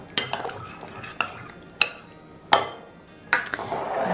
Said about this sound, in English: So I like to do this in a separate bowl so I can give it a good mix